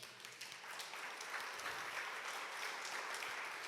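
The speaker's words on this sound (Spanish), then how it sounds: "Dale un aplauso al Señor." A church congregation claps in praise, a continuous, fairly faint wash of many hands heard from a distance, steady throughout.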